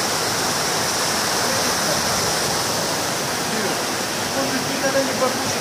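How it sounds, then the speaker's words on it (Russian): Waterfalls near homes in Massandra, Yalta, roar steadily, a dense close rush of falling water that fills the whole clip without pause, with a few faint bumps near the end. "Обалденные водопады."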